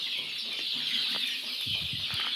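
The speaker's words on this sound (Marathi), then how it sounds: "तुम्ही पाहू शकता आपल्या कोंबड्या कशा प्रकारे हा पाला खात आहेत" Free-range village chickens eat neem leaves and make soft clucks and faint calls over a constant high buzz of background noise, with a few low pecking thuds near the end.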